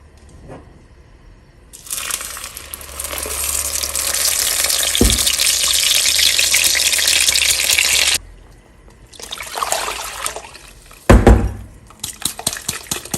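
Blended sauce poured into a saucepan of hot oil hisses in a loud, steady sizzle for several seconds, then eases off before brief bursts of stirring and bubbling return.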